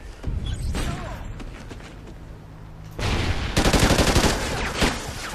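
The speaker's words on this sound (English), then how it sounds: "I stopped shooting because I figured he was dead." Rapid automatic gunfire from the Call of Duty: Ghosts video game, sparse shots at first and then a loud sustained burst of repeated shots in the second half.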